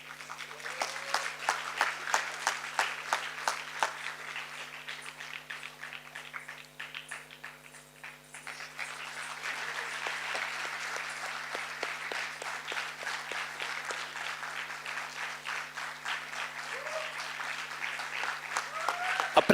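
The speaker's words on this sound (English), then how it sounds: "A huge round of applause." An audience applauding at a Bharatanatyam arangetram, a sustained round of dense clapping that dips briefly midway and then swells again, with voices heard in the hall.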